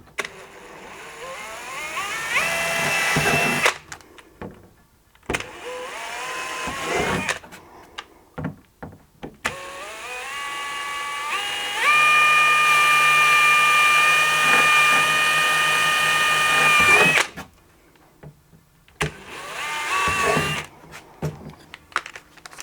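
A power drill with a 3.5mm bit whines in several bursts, drilling pre-marked holes for a fishing tackle pod, with a long sustained run in the middle, separated by quiet pauses and handling clatter nearby.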